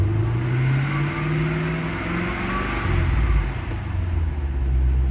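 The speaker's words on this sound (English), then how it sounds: "those loudmouth mufflers sound killer on this car" A 2012 Chevrolet Camaro SLP ZL560 fitted with loud aftermarket mufflers revs nearby, its deep throaty rumble climbing and falling through several blips with no talking.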